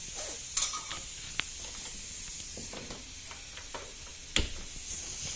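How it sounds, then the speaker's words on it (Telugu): Onions fry in oil with a soft, steady hiss and faint sizzle, close but quiet, broken by a few light clicks and utensil taps. "నూనె వేసి వేయించుకున్నాం"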